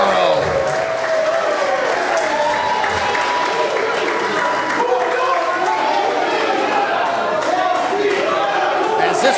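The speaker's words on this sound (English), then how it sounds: "As this crowd chants KC's belt" Wrestling crowd at an indoor live event chanting and clapping, a dense, loud wall of voices that stays steady throughout, with a commentator talking over it.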